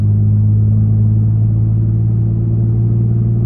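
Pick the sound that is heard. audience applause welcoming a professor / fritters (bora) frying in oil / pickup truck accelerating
pickup truck accelerating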